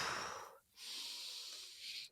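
A deep breath drawn in through the nose, a brief pause, then a long airy exhale out through the mouth, close and soft, with no talking.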